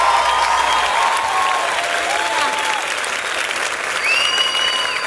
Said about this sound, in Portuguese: As palmas mais fortes para Jesus.